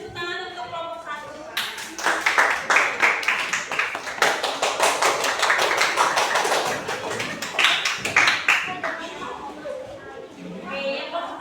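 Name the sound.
class applauding group 1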